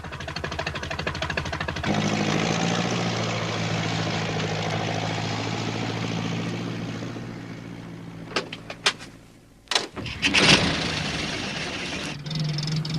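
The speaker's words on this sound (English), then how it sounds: "It was Alf Thompson on his tractor." A cartoon tractor engine chugs through fog, a steady droning motor running for several seconds alone, fading and breaking off near the end before a short quieter tail.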